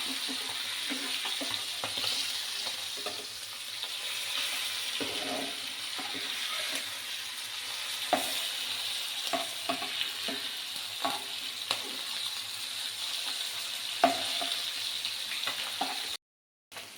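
Sardines fry Kerala style in a pan with a steady, close sizzle and crackle that runs throughout, broken by the occasional scrape or stir and a brief drop near the end.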